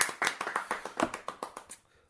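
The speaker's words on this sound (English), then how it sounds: "Let's give him a round of applause" A small group claps, about a dozen separate, fairly close hand claps in a quick, slightly uneven rhythm that tapers off toward the end.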